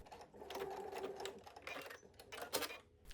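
A sewing machine topstitching near the waist of a fitted skirt, running in short uneven bursts of rapid stitching with brief pauses between them, close and moderately quiet.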